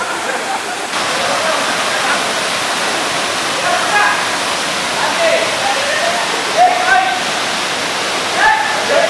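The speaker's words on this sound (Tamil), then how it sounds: "இதுதான் அந்த ஃபால்ஸ்." Saddhi Koodu Madugu waterfall produces a loud, continuous rushing roar close by, with voices faintly audible beneath it.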